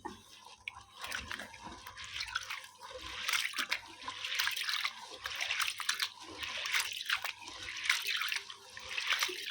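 Water poured and sloshed while washing soaked grains and urad dal for a kitchen batter, with close, irregular splashes and trickles at low level.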